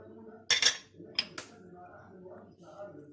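A spoon clinks against a bowl while tomato paste and ketchup go in for a homemade tteokbokki sauce: a cluster of bright metallic clinks, then two quick taps, fairly close, with faint background sound between.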